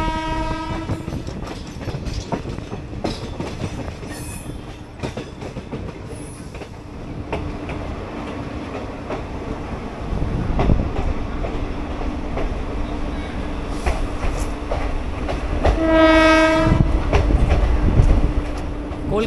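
Kanchanjungha Express passenger train pulling into Bolpur Shantiniketan station, with steady rolling rumble and wheel clatter building louder, a couple of horn blasts near the start and a longer horn call toward the end.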